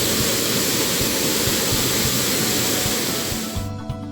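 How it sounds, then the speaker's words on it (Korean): The waterfall at Anderson Cascade on New Zealand's Milford Track roars as a loud, steady broadband rush of falling water, close by and alone. It cuts off abruptly near the end. "내리막이 이어지는 동안 몇 개의 폭포를 만날 수가 있는데 다행히 동영상을 몇 개 찍어왔네요."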